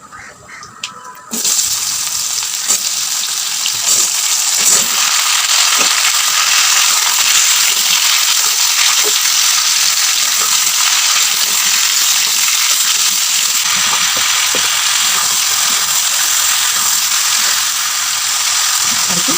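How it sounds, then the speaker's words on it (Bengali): Mango pieces, coated in oil and tossed with panch phoron for pickle, hit hot oil in a wok and set off a loud, steady sizzle that begins abruptly and hisses on without pause, with a few faint stirring knocks. "তো এবারে আমি কড়াই দিয়ে আমটা দিয়ে দেবো"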